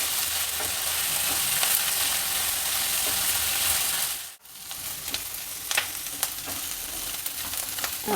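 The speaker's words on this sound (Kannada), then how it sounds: "ಒಗ್ಗರಣೆಯಲ್ಲಿ ಈರುಳ್ಳಿ ಬಟಾಣಿ ಎಲ್ಲನೂ ಚೆನ್ನಾಗಿ ಫ್ರೈ ಆಗಿದೆ" Onions and peas fry in tempering oil with curry leaves, a steady close sizzle with a stirring scrape partway through, and no talk.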